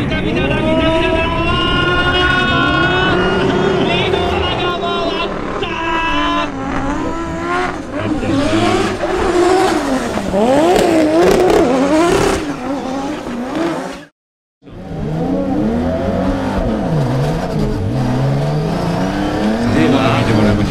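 Drift cars at a Formula Drift Japan round in Okayama roar into the first corner in a tandem battle, with loud, close engines rising and falling, revving hard and tires squealing while a commentator talks over the action.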